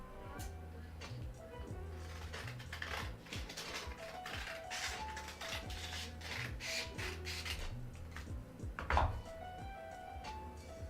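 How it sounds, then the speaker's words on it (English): Fine grit sandpaper rubbed by hand over a cosplay craft piece, a steady stream of short rasping strokes close up, some faint background sound underneath and a sharper knock near the end. "The finer grit sandpaper you have to change out more often."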